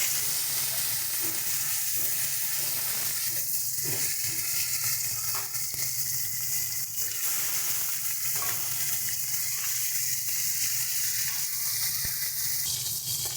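Koi fish frying in hot oil, a dense continuous sizzle and hiss held at steady volume close up, with occasional soft clinks and stirring bumps through it.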